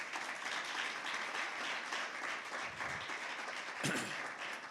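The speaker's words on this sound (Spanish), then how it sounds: "Denle un aplauso a Jesús." A church congregation applauds at a Spanish-language sermon, a dense, steady wash of many hands clapping heard from within the room, with a brief thump near the end.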